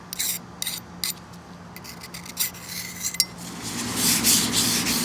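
Soft, scratchy rubbing and rasping of sandpaper against a vintage Weber metal air horn, in short hand-sanding strokes, close and fairly quiet, with some light clinks.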